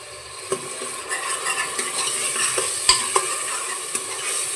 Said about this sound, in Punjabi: ਭੁੰਨ ਲਾਂਗੇ ਇਹਨੂੰ ਆਪਾਂ ਕੜਛੀ ਨਾਲ ਹਲਾਉਂਦੇ ਹੋਏ